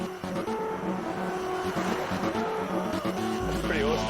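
An electric car, a Tesla-era road car, drives past in a steady, close rush of motor and tire noise, with people talking over it throughout.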